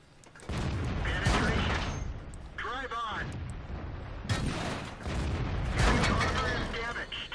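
Tank cannon fire in the World of Tanks video game, with loud booming shots and rumbling impacts in bursts while someone talks over the battle.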